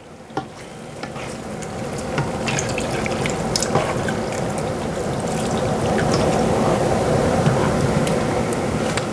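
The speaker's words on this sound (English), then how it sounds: "And now I will add 3 more cups of milk to this." Milk is poured into a cooking pot of thickening, creamy sauce for a chicken bacon ranch casserole, a steady close liquid pour with faint simmering and stirring underneath, without talk.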